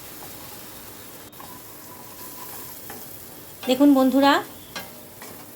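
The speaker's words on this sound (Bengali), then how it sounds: "এবার মশলাটাকে ভালো করে কষিয়ে নিচ্ছি। অনবরত কিন্তু নাড়তে হবে" Spice paste (masala) for chicken pulao stirred and fried in oil, a continuous close sizzle with spoon scraping, a sudden clatter near the start, and a brief spoken phrase partway through.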